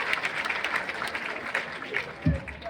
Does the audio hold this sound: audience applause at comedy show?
yes